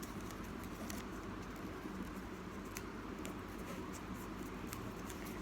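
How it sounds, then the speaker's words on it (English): Heavy rain pours steadily outdoors, a dense, even hiss with scattered sharper patters and drips, continuous and fairly close throughout. "It's raining here heavily."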